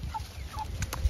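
Chickens and roosters on a homestead give a few short, faint clucks over quiet background, brief and a little distant.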